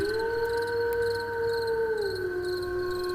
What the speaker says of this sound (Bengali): আর দূর থেকে শিয়ালের ডাক ভেসে আসছে